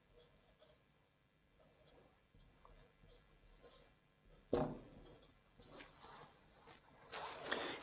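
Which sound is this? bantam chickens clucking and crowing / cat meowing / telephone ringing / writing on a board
writing on a board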